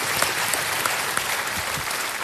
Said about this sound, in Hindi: एक बार तालियों के साथ फिर से